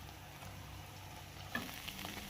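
Two eggs frying in a pan with oil give a steady, quiet sizzle that runs without a break, with a small clink near the middle and no voices.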